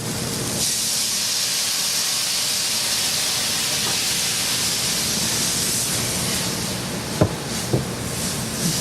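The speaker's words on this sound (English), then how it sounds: "you want to deglaze your pan with your marsala wine" A hot pan of mushrooms and onions is deglazed with marsala wine, letting out a loud, steady steam hiss that runs close and unbroken, with a couple of faint knocks near the end.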